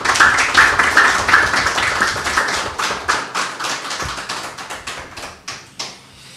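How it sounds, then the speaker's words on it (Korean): A church congregation claps together at a missionary sending service, a dense, steady patter of many hands close around the room that thins and fades toward the end. "여러분 박수 한번 하겠습니다."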